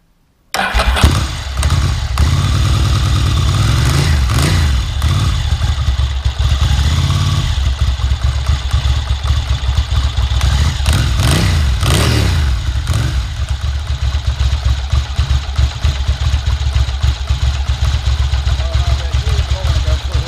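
A Ducati M900 motorcycle engine fitted with a clutch mod cranks and fires up, then runs steadily at a loud close idle with a few blips of revving, no talking over it.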